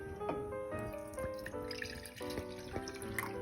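Water pours steadily into a saucepan on medium heat, a continuous trickling stream with rising pitch as it fills, close by and without talk.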